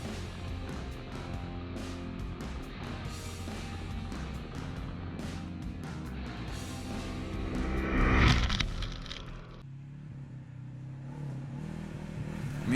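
Segway AT10 1000cc ATV quad engine while riding off-road from fields into forest, a steady droning engine rumble that swells louder briefly midway, then eases back as the ride continues.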